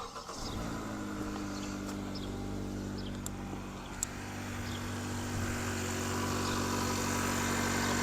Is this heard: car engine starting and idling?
yes